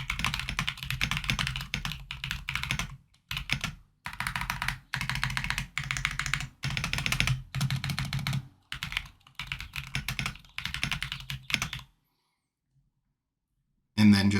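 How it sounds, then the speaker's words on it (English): A keyboard fitted with Chosfox Voyager tactile switches is typed on in steady bursts of close, crisp clacks with brief pauses between runs, then the typing stops into silence. "let's go ahead and do a quick sound test"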